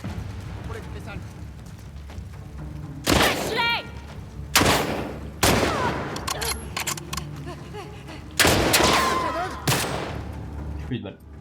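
Several loud gunshots from The Last of Us Part II ring out at irregular intervals, each a sharp blast followed by a short decay and what sounds like ejected shells tinkling, over a low ambient game backdrop.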